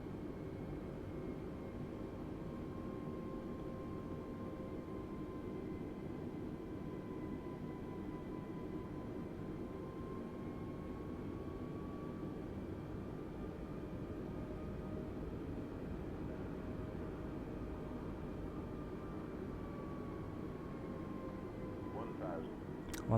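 Steady drone of an A320neo airliner on landing approach in Microsoft Flight Simulator, a continuous low engine and airflow rumble with faint tonal whines, unbroken and even throughout.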